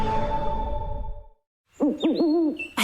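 An owl hoots in a radio advert for Whiteman Park's EnviroFest 2024, a clear, close call that fades into a short silence, followed by wavering hoot-like calls.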